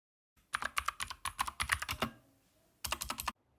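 Typing on a Keychron K2 mechanical keyboard fitted with clicky blue switches: a quick, close burst of sharp clicking keystrokes, a short pause, then another brief run of clicks.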